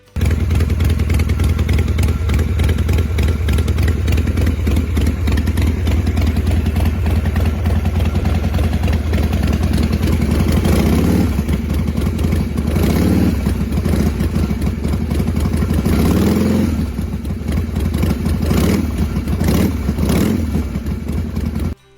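A Harley-Davidson Sportster 1200cc motorcycle engine running loud and close, a steady rumbling idle with several revs rising and falling toward the end.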